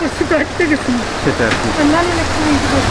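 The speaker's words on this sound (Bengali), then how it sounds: "ঝরছে আকাশ থেকে বৃষ্টি" Steady rain pours over an outdoor fish market in Dhaka, a constant hiss with people talking over it nearby.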